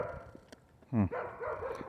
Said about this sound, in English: Why are they barking? They're so far away.